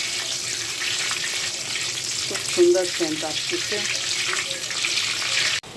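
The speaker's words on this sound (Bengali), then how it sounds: "ঘিয়ের ভিতরে ভালোভাবে তেজপাতা দারচিনি এলাচিটা আমি ভেজে নিব" Bay leaf, cinnamon and cardamom fry in ghee with a close, steady, bright sizzle. A voice speaks briefly partway through, and the sound cuts off abruptly at the end.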